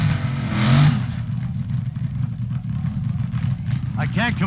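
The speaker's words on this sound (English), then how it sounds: "I can't compete with that burnout, Steve." A drag racing car at the 1971 NHRA Winternationals doing a burnout, its engine roaring and revving loudly with a broad surge early on, then a sustained rumbling drone, while someone talks over it.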